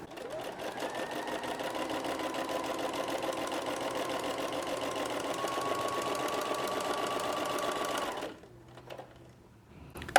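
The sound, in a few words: sewing machine stitching shirring with elastic thread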